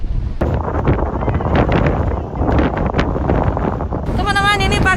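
Strong wind buffets the microphone on a bridge at Changbai Mountain, a heavy continuous rumbling roar throughout, with a brief tonal sound at the end.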